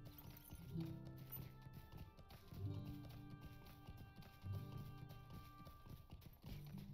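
Horse hooves clip-clopping in the video game Lord of the Rings Online, a steady trotting rhythm, fairly faint, alone with no talk.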